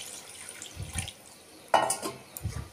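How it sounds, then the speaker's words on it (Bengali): Water is poured into a cooking pot for a fish curry with giant taro, heard as a few short splashing bursts with quiet gaps between them. "এবার আমি এতে পরিমাণ মতন জল দিয়ে দেবো।"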